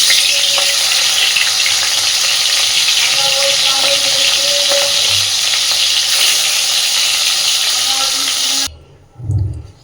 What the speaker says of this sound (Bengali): এবার আগে লবণ হলুদ মাখিয়ে নেওয়া মাছটা আমরা সুন্দর করে ভেজে নেব